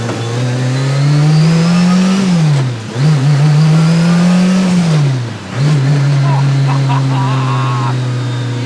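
A Lancia Delta S4 Group B rally car, turbocharged and supercharged and street-legal, revs hard and loud through two rising runs, each ending in a sharp dip at a gear change, then pulls again, heard from inside the car.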